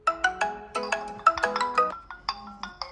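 A KIESLECT Kr2 smartwatch plays an incoming-call ringtone, a bright melodic chime of quick repeated tones in two short phrases, clear and close with no talking.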